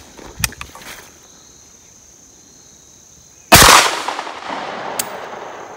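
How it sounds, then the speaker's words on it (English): A single loud 20 gauge shotgun slug blast fired outdoors at a zombie target, a sharp close report with a long rumbling decay, after fainter earlier pops and a steady insect buzz. "Let's see what some 20 gauge slugs will do to him."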